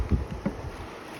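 A small boat moving along a stream in the Vang Vieng countryside of Laos, with soft water sloshing against the hull in a few low bursts and faint wind noise, close and quiet.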